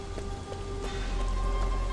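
Steady rain falling in the Sleeping Dogs open-world game, a continuous broadband hiss with scattered pattering drops, fairly loud and unbroken, alongside faint in-game background tones and no talking.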